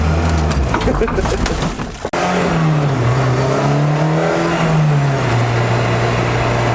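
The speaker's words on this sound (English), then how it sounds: "But car's back alive. Back idling poorly again." A car back running after a quick repair with new screws, idling poorly with an uneven low engine note; a brief dropout comes early, then the rough idle continues steadily and up close with no talk.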